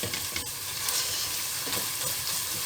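Tomato paste with black pepper and salt frying in a pan as it is stirred, giving a dense continuous sizzle with faint scraping from the stirring throughout.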